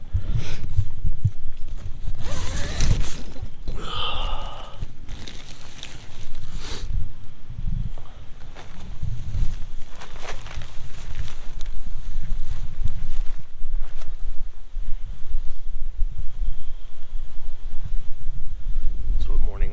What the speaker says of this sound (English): It's still very, very windy.